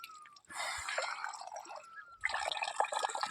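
Cold water from a natural mountain spring trickles and splashes in a hillside village, steady close-up dripping and pouring with a brief lull before the flow picks up again.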